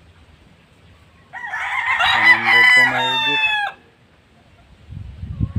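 A fighting rooster, one of many kept for cockfighting, lets out a single loud, drawn-out crow nearby, with faint clucking around it and brief speech at the end.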